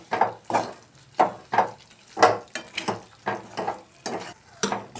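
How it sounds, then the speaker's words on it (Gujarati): Flour roasting in ghee, stirred steadily with rhythmic scraping strokes about twice a second, each stroke loud and close over a faint sizzle. "આ રીતે ઘીમાં લોટ બરાબર મિક્સ કરવાનો છે અને બદામી રંગનો થાય ત્યાં સુધી એને શેકવાનો છે"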